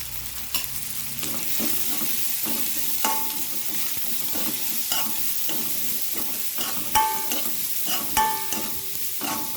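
Chopped onions fry in oil in a pan for chickpea curry, a constant sizzle under repeated scraping stirs of a spoon, with sharper clinks toward the end.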